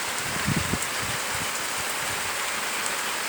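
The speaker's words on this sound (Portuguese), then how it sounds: "A chuva agora engrossou," Heavy rain pours steadily in Toritama, a dense, constant hiss of drops drumming on surfaces, with a few low thumps early on and no voices.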